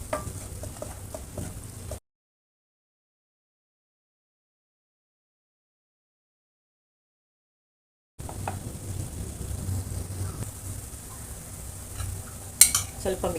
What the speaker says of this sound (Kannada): ಎಲ್ಲ ಎಣ್ಣೆಲೆ ಚೆನ್ನಾಗಿ ಹುರ್ಕೋಬೇಕು. ಸಣ್ಣ ಉರಿಲೇ ಚೆನ್ನಾಗಿ ಹುರಿಬೇಕಿದು.